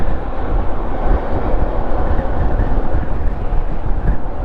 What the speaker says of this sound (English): check out the plane's about to take off.